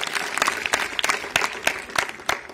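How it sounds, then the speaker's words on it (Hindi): Clapping from a class of schoolchildren rewarding a correct answer, a few sharp rounds of hand claps in quick bursts, close and fairly loud with a light crowd murmur beneath. "इसके लिए 3 तालियां बजाइए।"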